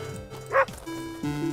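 A cartoonish dog bark from the video game Meditations sounds once, short and sharp, between soft tonal game music notes and chimes.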